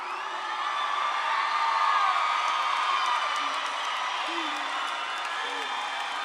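A graduation crowd at Cibola High School cheers for the class of 2023, a dense, steady roar of applause, whoops and shouting voices that swells slightly in the middle and holds loud throughout.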